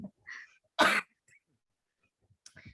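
A few coughs and a throat clear, close and fairly loud, in separate short bursts with quiet gaps between them.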